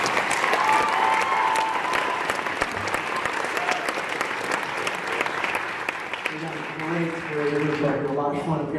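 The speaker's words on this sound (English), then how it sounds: "Let's give our volunteers a big round of applause." A theatre audience loudly applauds volunteers at a hypnosis show with sustained, dense clapping that fades as music comes in near the end.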